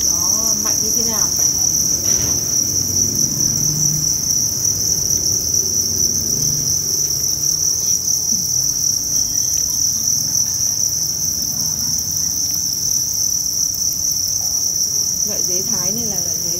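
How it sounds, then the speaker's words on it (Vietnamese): Thai crickets, a wingless, prolific egg-laying breed, chirp in a dense breeding bin, a steady high continuous trill that fills the whole stretch alone, with faint low rustling beneath. "Loại dế Thái này là loại dế siêu trẻ, siêu đẻ trứng rất là nhiều"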